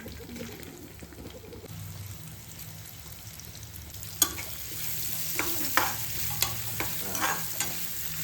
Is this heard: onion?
yes